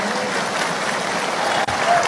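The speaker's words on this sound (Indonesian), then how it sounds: "Agak kenceng nih tepuk tangannya nih." Audience applause for Pak Anies fills a hall, a steady dense wash of many hands clapping without pause, with a brief dip near the end.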